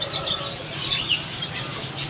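Caged birds at the Saddar bird market in Karachi chirp in a busy background of short, high tweets over a steady market hum, moderately loud and continuous.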